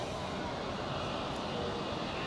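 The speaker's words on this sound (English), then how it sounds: "Next departure is Pegasus to Antalya, an A320neo, already accelerating down the runway." A Pegasus Airbus A320neo bound for Antalya accelerates down the runway at Zurich Airport for takeoff, giving a steady, broad jet roar at middle distance with no breaks over its short span.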